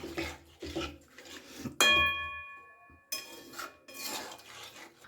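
A spoon scrapes and rasps through shukto vegetables with three slit green chillies and a little sugar in a pan, in short scraping strokes; a bright metallic clang rings out midway, then more close stirring follows.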